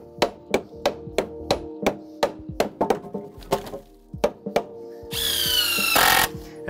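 Deck framing under repair, with a rapid series of sharp knocks and thuds from tool work on the timber, then a loud rising whine of a power drill driving a screw near the end, close and with no talking.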